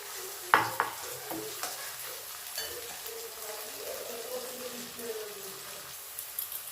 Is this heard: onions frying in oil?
yes